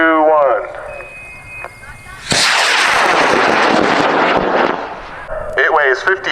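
A high power rocket on a Loki K960 motor lifts off at an Argonia, Kansas launch event with a sudden loud roaring burst that rumbles and slowly fades, after countdown voices and with talk resuming at the end.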